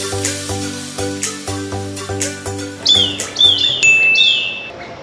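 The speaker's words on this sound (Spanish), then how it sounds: "está padrísimo el sonido de los pajaritos, de los animales." Small birds chirp and tweet at a Mexican eco resort, clear bright calls rising over a rhythmic musical beat that fades out as the birdsong continues alone.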